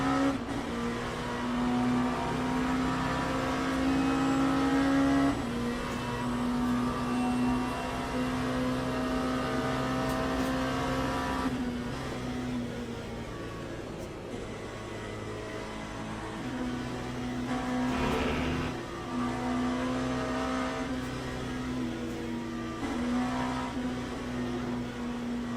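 BMW GT race car engine in the Le Mans Ultimate racing game, a steady loud droning note that rises and drops through gear changes, running continuously with no talk.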